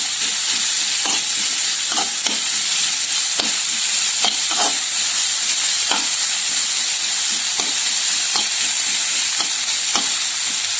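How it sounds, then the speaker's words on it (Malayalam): Masala for Kerala-style prawn roast fries in a pan and is stirred: a loud, unbroken hissing sizzle with regular spatula scrapes and taps over it, heard close and steady throughout. "ബ്രൗൺ കളർ ആകുന്നത് വരെ നല്ലതുപോലെ തന്നെ ഇളക്കി സെറ്റ് ചെയ്ത് വെക്കാം."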